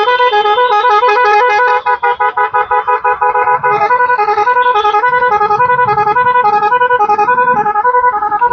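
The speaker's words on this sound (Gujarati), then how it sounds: "કેટલું ટ્રાફિક છે" Car and bus horns honk almost continuously in layered, overlapping blasts, loud and close, over the rumble of congested road traffic.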